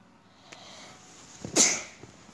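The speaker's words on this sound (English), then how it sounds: "Sorry, I just had to sneeze again." A single sharp sneeze lands about a second and a half in, loud and close against an otherwise quiet background during a Star Wars Commander gaming session.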